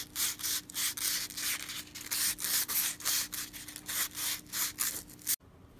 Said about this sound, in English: So what I'm going to do is just sand this down a little bit.